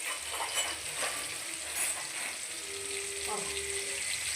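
A tempering for nuggekai drumstick curry fries in a pan with a loud, steady sizzling hiss close by.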